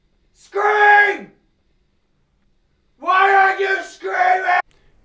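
A person auditioning screams into a microphone, letting out two loud harsh bursts separated by silence: a single scream, then a longer paired scream a couple of seconds later.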